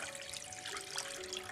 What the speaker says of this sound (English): Now we're going to add around 2 cups of water.